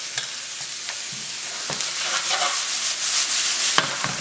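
Garlic being stirred into pole beans in a hot frying pan: a steady close sizzle with scraping, rubbing strokes of the utensil and a few sharp knocks against the pan.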